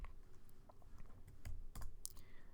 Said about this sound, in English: Before you break any line, you type in the backslash and hit enter.